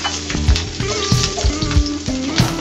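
Garlic sizzling in cooking oil in a pan, a loud, constant crackling fry close up, with light stirring clinks and scrapes running through it.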